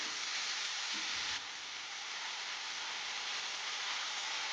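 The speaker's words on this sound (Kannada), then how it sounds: "ಟೊಮೆಟೊ ಅದು ಸ್ವಲ್ಪ ಮೆತ್ತಗಾಗಬೇಕು, ಅಲ್ಲಿವರೆಗೂ ಇದನ್ನು ಫ್ರೈ ಮಾಡ್ಕೊಳ್ಳಿ." Tomatoes fry in a pan for a dhaba-style paneer masala, giving a steady, close sizzle and hiss that softens a little partway through, with no one talking.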